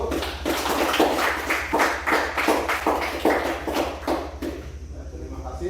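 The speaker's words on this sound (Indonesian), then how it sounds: "Tepuk tangan dulu." An audience at a university teacher-certification presentation claps in a brisk, rhythmic burst of fairly close hand-clapping that gradually thins and fades toward the end.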